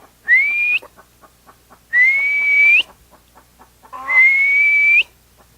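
A person whistles in imitation of a partridge call, giving three clear rising whistles spaced about two seconds apart, each held for roughly half a second or more, with quiet faint clicks between them.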